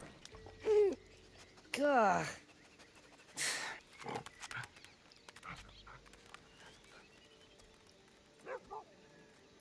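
A dog in the video game Assassin's Creed Odyssey barks several times in close succession, with a few quieter yips and pants after, while a person speaks briefly.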